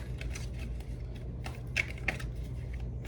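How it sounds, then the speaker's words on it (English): A deck of playing cards is shuffled by hand, giving soft rapid riffling and a couple of sharper snaps, close but fairly quiet over a steady low background hum. "You guys are watching me shuffle, so it's not like I'm doing anything sleight of hand."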